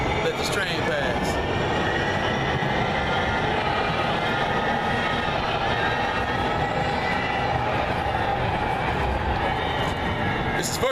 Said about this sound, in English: Let this train pass.